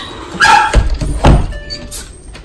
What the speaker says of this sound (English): Look at my doggies.